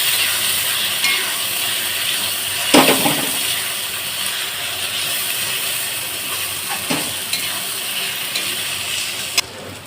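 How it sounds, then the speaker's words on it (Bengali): Mutton sautéing in a pan with red chili powder and Kashmiri chili powder, a steady close sizzle and hiss with occasional stirring scrapes of the spoon, no voices. "এক চামচ লাল লঙ্কার গুঁড়ো দিয়ে আবারও আমি এইভাবে কষাতে থাকছি"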